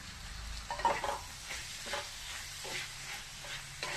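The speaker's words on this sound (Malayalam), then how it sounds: "നമുക്കിനി ഈ വഴുതനങ്ങ കഷ്ണങ്ങളങ്ങ് ഇട്ട് കൊടുക്കും." Eggplant pieces are stirred into softened onions frying in a pan for a Kerala mezhukkupuratti stir-fry, giving a steady close sizzle broken by a series of spatula scrapes and stirs, with no talking.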